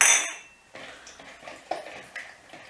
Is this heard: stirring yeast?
yes